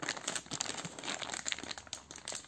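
The plastic bag packaging of a windshield washer nozzle kit for a 2006 Kia Cerato crinkles and rustles close by, with irregular bursts of handling throughout.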